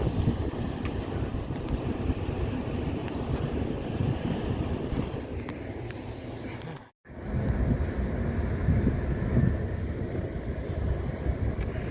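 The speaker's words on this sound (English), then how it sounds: "All those idling trains, as far as the eye can see." Idling freight train locomotives fill a Nebraska rail yard with a constant low rumbling drone, heavy wind buffeting the microphone and a brief cut in the middle.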